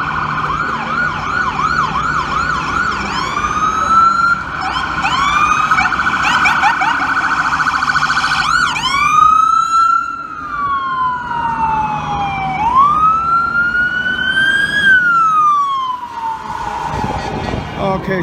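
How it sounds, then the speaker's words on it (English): Wailing sirens from several New York City ambulances responding to a serious accident, sweeping up and down in overlapping tones, loud and steady as they draw near with road noise underneath. "Here come more ambulances."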